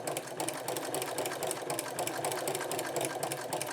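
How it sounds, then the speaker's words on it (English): A sewing machine stitches two layers of fabric together with a pleating attachment, a fast, even mechanical chatter running steadily close by without pause. "I can even sew 2 layers of fabric together at once if I want."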